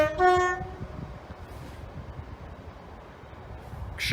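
A train horn sounds from the rear cab of a twin-unit set on the line near Peterborough and Metheringham, a loud tonal blast at the start over rumbling rail noise, with another short horn note at the very end.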